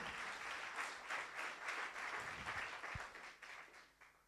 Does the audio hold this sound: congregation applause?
yes